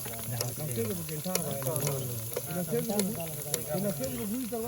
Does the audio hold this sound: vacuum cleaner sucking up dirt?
no